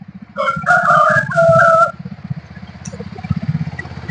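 A rooster crows once, loud and close, in a long drawn-out call over a rhythmic low engine chug that keeps going after the crow ends. The rooster is one of two kept in separate net enclosures.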